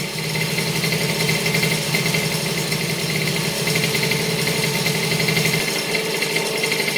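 A two-stroke moped engine running on 100% ethanol with unchanged ignition timing, idling and buzzing steadily and loud up close with a rough, rattly pulse, continuous throughout with no talk.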